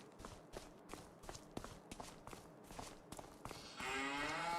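Cows mooing in a farming video game, with a steady rhythmic thudding of footsteps before a long, drawn-out moo rises clearly at the end.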